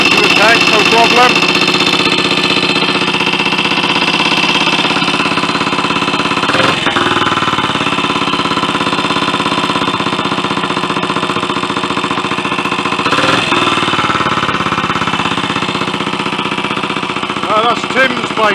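A Royal Enfield 250 motorcycle engine idles loud and close after servicing, a steady mid-pitched running note with faint periodic knocking throughout, and a voice talks over it.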